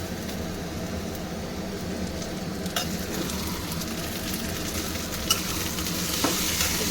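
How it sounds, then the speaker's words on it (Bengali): Chopped tomato hits fried onion in a pan for a Bengali goat curry and gets stirred, giving a steady close sizzle with occasional sharp spoon clicks against the pan. "এবার আমি এতে এই কুচানো টমেটোটা দিয়ে দেব।"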